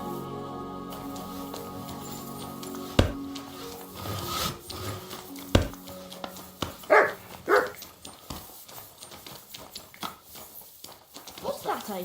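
Dog barking in the medieval video game Kingdom Come Deliverance II, a few short barks over hoofbeats and ambient game sound, with people talking in game dialogue.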